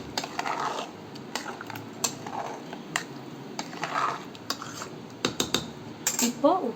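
Ground paste stirred into a goat trotter curry in a pot: intermittent metal spoon clinks and scrapes against the vessel over a faint simmer, with irregular knocks and a brief clatter near the end.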